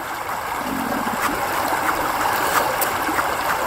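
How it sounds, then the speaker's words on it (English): The Shoalhaven River runs at a rocky crossing in Deua National Park, a steady, close rushing of water with soft gurgles and splashes throughout. "Here we are at the Shoalhaven River, our first technical river crossing"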